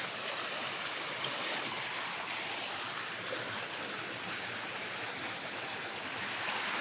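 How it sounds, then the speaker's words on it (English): Water stream at Tom Sawyer's Island flowing steadily with a dense, even rush and trickle, close and continuous throughout, with no voices over it. "We'll go this way over this water stream."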